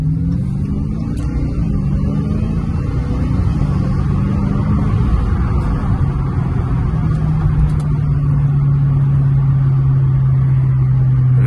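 A Dodge Charger SRT Hellcat pulls hard along a straight road, its steady low engine roar rising into a deeper sustained drone as it gains speed, loud and close from inside the car with no talking.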